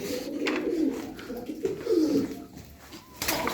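Pigeons coo in a pair of low, rolling calls that swell and fade over a few seconds, close by, with faint rustling and no speech.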